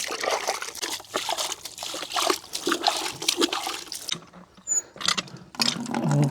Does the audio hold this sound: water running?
yes